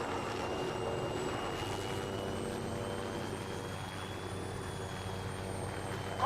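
A helicopter in Arma 3's Altis Antistasi mod drones steadily at a distance, an unbroken rotor-and-engine hum holding level throughout with a faint high whine, no talk.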